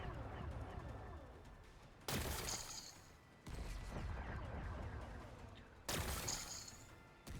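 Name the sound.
plasma cannon blasting rocks in Horizon Forbidden West video game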